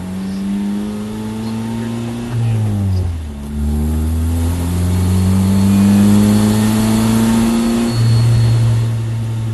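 Race car at a time attack event, engine revving loud and close with a steady harmonic drone that rises, dips sharply on a shift, then climbs again through the lap.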